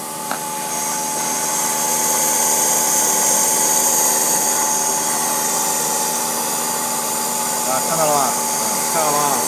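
The vacuum suction of a running paper-handling machine gives a loud, constant whooshing drone with a faint mechanical whine, unbroken throughout.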